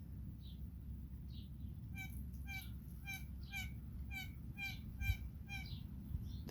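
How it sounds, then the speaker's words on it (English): Repeated harsh blue jay calls in quick series, several in a row, fairly distant over a steady low background rumble. "if I don't see any blue jays with my eyes, that's a blue jay"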